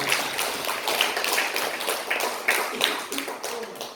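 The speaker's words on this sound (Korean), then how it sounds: "박수 한번 보내주시기 바랍니다" A church congregation claps together, a dense, even patter of many hands continuing for several seconds at moderate distance, with faint voices mixed in.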